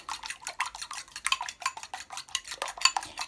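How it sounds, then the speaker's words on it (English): A whisk or fork beats two eggs in a bowl, giving a fast run of close, bright clinking taps against the bowl side, steady and rhythmic for a few seconds with no talk. "We're going to take our 2 eggs. We're going to beat them real good."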